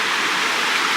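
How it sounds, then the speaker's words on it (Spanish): Water flowing at small natural hot springs in Iceland, a steady broadband rushing and hiss, close and fairly loud, with no voices over it. "Bueno, pues aquí están las termas"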